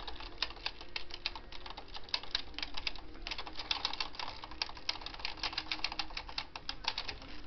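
A Bond Classic Plus knitting machine carriage slides across a row while working a tuck stitch, producing a steady stream of dense, fast plastic clicks and rattles, close and continuous, with no voices.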